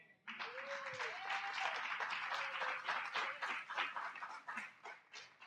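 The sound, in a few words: congregation applauding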